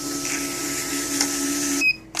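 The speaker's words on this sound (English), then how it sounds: "I press order, and as you see, it prints just fine" An SRP-275II receipt printer runs off an order ticket with a steady, close mechanical whir that stops near the end, followed by a couple of small clicks.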